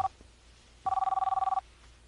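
A telephone rings indoors in two bursts, a short first trill then a longer electronic warbling ring, moderately loud and close, alone with no talking.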